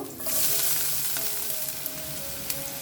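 Chopped garlic and ginger fry in smoking-hot oil over a high flame, giving a loud, steady sizzle throughout with a few small pops and clicks, no talking.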